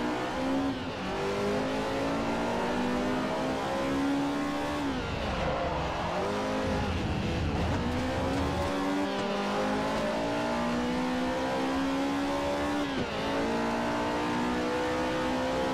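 Lotus race cars, British Superlights, racing in Forza Motorsport 4: loud close engines rev and shift through rising and falling whines, with several cars blending into a continuous roar.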